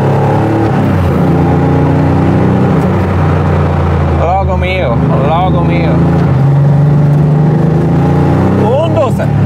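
A Porsche 964 RSR restomod road racer with a short-ratio six-speed G50 gearbox rumbles and revs loudly and continuously, its engine note rising and falling while a voice sings a few words over it.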